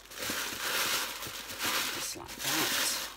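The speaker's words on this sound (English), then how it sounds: "I'm going to put some tissue paper in" Tissue paper crinkles and rustles in bursts as it is tucked into a gift box while wrapping, close and fairly loud, with soft handling noises between.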